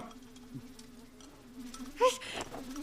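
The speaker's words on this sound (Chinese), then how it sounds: "大冬天的，这哪来的苍蝇啊？" A thin, steady insect buzz drones close by, with a brief louder clatter near the end.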